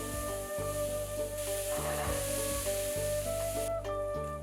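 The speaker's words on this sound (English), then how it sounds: "Use the remaining oil to fry onions, garlic, carrots, celery, and white mushroom." Onions, garlic, carrots, celery and white mushrooms sizzle in hot oil in a pan, a steady frying hiss broken by the clatter of stirring, with no talk.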